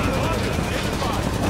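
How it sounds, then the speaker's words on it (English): Rapid beam weapon fire in the Halo 5: Guardians video game, a dense, continuous barrage of shots and blasts that fills the whole moment at high volume, with no pauses between bursts. "They're shooting beam weapons."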